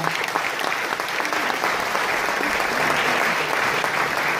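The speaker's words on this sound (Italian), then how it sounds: "l'applauso per Vincenzo Canova." A crowd applauds a launeddas player at a Sardinian launeddas festival. The clapping is dense, steady and unbroken for the whole stretch, with no voices over it.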